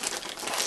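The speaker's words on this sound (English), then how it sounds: "get a plastic bag" A plastic bag crinkles close up in one brief, steady rustling burst.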